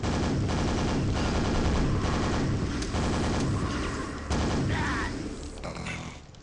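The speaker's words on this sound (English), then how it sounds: "Super nail gun." Super nail gun from Quake firing in rapid, continuous metallic bursts, loud and close, with brief pauses between volleys alongside other in-game crashes.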